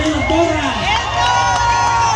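A crowd cheers and shouts with whoops at a waiters' race in San Pedro Tlaquepaque, a dense, loud, continuous roar of voices with a rising shout, heard close and without pause.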